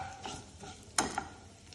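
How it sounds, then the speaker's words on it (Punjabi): Green cardamom pods and cloves roast lightly in a pan, giving a faint sizzle with a couple of quick metallic stirring scrapes, brief and close, with no voices. "ਦੋ ਆਪਾਂ ਪਾਤੇ ਹਰੀਆਂ ਇਲਾਇਚੀਆਂ ਤਿੰਨ ਪਾ ਦੇਣੇ ਆਪਾਂ ਲੌਂਗ ਤੇ ਇਹਨਾਂ ਚੀਜ਼ਾਂ ਨੂੰ ਆਪਾਂ ਹਲਕਾ ਜਿਹਾ ਭੁੰਨ ਲੈਂਦੇ ਆ"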